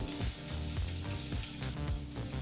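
Green chilies, curry leaves and ginger fry in a pan with a steady, close sizzle and crackle, interrupted by a few low scraping stirs.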